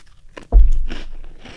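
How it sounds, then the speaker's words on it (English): A large crunchy cookie, nearly the size of a slice of toast, is bitten and chewed right against a microphone. One sharp, loud crunch comes first, then softer wet chewing noises. "I'm chewing into the microphone."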